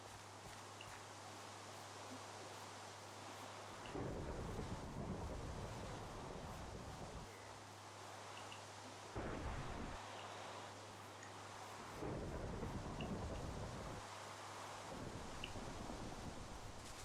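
Thunderstorm rain in Minecraft hisses steadily with broad, even noise, swelling at intervals into louder rumbling bursts of thunder, with no talking.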